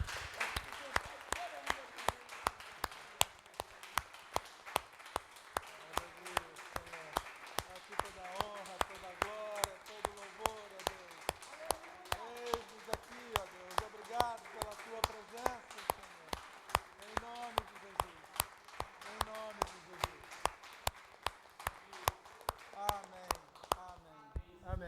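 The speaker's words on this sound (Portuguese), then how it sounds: "Vamos dar uma salva de palmas para Jesus?" A church congregation claps for Jesus in steady rhythmic unison, sharp repeated claps continuing for the whole stretch, with voices and singing under the clapping in a large room.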